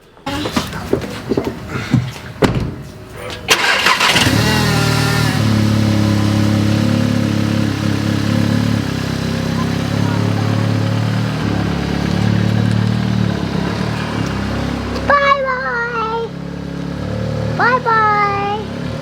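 Car engines idle and rev as the cars are maneuvered and turned around, a loud steady mid-range drone after a few opening knocks, with brief voices near the end.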